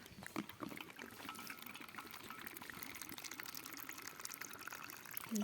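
A dog laps water outdoors in a forest, a faint, soft, continuous wet dribbling close by against quiet woodland background.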